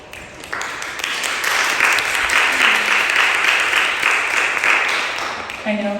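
Audience applause at a school committee meeting, a sustained wash of many hands clapping that holds steady for several seconds, moderately loud, ending as a voice briefly starts speaking.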